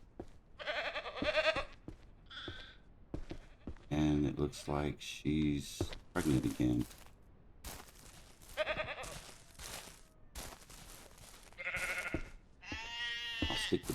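Sheep bleating in Ranch Simulator, several short wavering calls in bursts through the clip, some close and loud, with a person talking between them.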